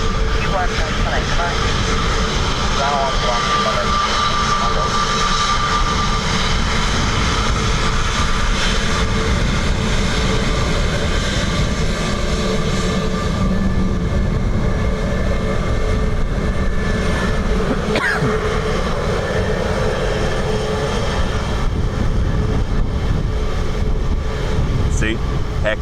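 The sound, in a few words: aircraft landing at Dublin Airport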